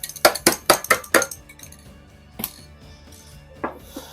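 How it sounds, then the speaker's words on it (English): A lid being pressed back onto a metal Rust-Oleum paint can, heard as a rapid series of five or six sharp metallic clinks and taps close by, followed by a couple of quieter knocks. "I'm going to put that cap back on, the lid back on that."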